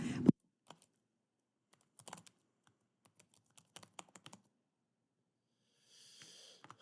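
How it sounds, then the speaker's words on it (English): Sparse, quiet keystrokes on a computer keyboard come in short irregular bursts with long pauses between them, close to the microphone in an otherwise silent room. "I apologize for the typing this up on the fly"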